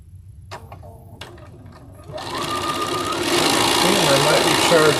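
Sewing machine piecing two quilt squares together, starting after brief talk and a few clicks, then running steadily and growing louder over several seconds.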